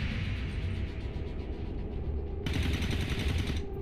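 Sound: overwatch gunshots in XCOM 2 video game

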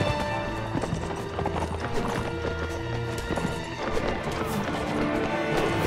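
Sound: horse hooves galloping in Mount & Blade: Warband video game

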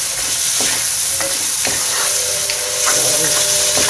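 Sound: stir-frying celery and baby corn for chop suey

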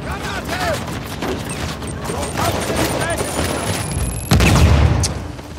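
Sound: gunfire in video game Uncharted: The Lost Legacy

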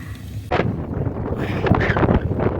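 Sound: strong wind

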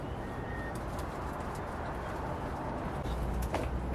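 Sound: bird nesting in a greenhouse, cooing

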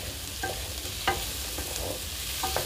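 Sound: stirring papaya sabzi frying in a pan

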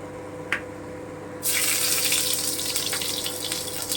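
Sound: crushed garlic sizzling in hot oil

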